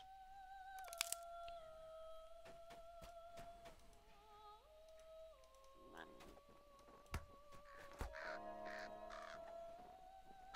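Crows caw repeatedly among synthetic game tones and clicks in the video game The Lord of the Rings Online, at moderate to faint volume.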